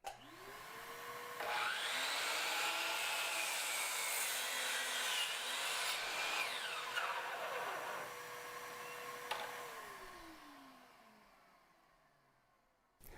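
A miter saw fitted with a homemade angle jig spins up with a rising whine, then its blade cuts through a wooden board in a loud, rough grinding pass before the motor winds down and falls quiet.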